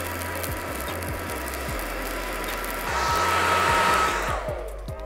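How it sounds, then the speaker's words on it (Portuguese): A hair dryer blows air steadily into the coals of a small forge to stoke the flames, a loud continuous whooshing roar that swells briefly near the end before easing off. "a primeira ferramenta que vocês precisam é do vosso secador"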